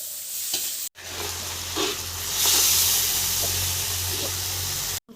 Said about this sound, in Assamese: মাংস উতলি আছে, অলপ পিছত নমাব পৰা হ'ব।